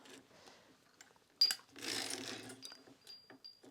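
A circular sock knitting machine being hand-cranked while knitting heavy ribbed boot socks from sport weight yarn, giving a busy mechanical clatter that builds to a dense whirring run, with a few sharp clicks and brief squeaks around it.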